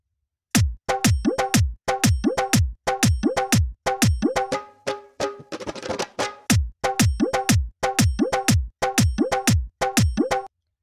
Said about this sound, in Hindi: इस तरह से आप रिदम बना सकते हैं